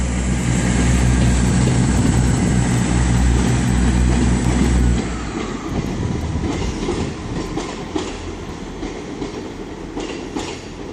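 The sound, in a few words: IET train arriving at Exeter St David's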